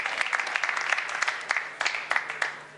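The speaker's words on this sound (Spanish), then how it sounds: "Sí, aplauso." Scattered audience applause in a room, a modest patter of claps with sharp individual hits rising and falling, fairly close and without voices over it.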